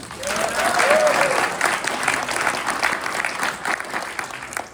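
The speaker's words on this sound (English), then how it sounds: "So everybody give themselves a round of applause." A celebration audience breaks into dense, sustained applause that stays steady throughout, with a brief whoop near the start and faint voices mixed in.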